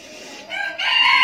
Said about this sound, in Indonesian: Ada suara ayam tuh ya.